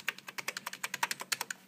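Keys on an old Packard Bell computer keyboard are pressed in a quick, fairly even run of about twenty crisp clicks, close and clear with no voices.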